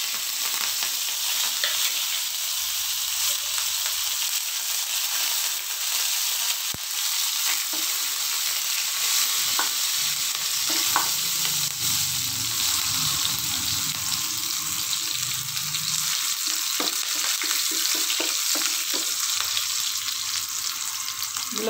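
Spices crackle in hot oil while tempering for ven pongal, a dense continuous sizzle held at an even level for a long stretch, with occasional faint stirring clicks and no talk.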